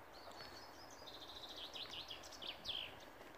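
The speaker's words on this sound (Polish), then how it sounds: "Ptaszki śpiewają." Small birds chirp and trill outdoors on a spring morning, faint and somewhat distant, with several short rising and falling calls over quiet background ambience.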